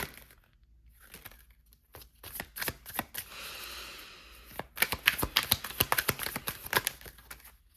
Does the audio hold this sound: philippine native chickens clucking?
no